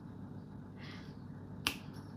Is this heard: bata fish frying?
no